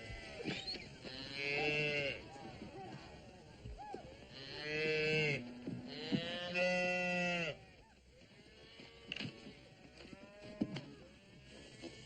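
Cattle on a ranch lowing and bellowing in several drawn-out calls, moderately close, with quieter stretches and some background movement between calls.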